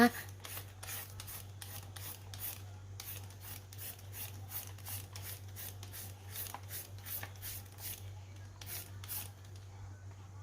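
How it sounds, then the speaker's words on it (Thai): Radish is grated into fine shreds for a Thai radish cake, a close, rhythmic series of quick scraping strokes repeating steadily over a low constant hum. "ทีนี้เราก็จะมาขูดฝอยแบบนี้นะคะ"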